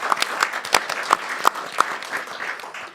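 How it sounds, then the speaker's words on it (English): A small audience at a Baruch College panel discussion on immigration politics applauds the panelists with loose, moderate clapping, a few sharp individual claps standing out near the microphone before it fades. "let's give all the panelists a warm round of applause"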